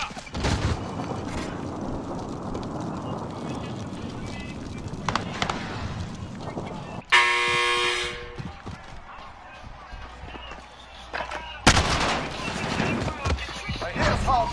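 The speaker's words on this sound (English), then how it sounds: "I'm taking fire." Gunfire in a first-person shooter video game, bursts of shots crackling through a dense, busy battle mix, with sharp loud volleys around the middle and near the end and talk over parts of it.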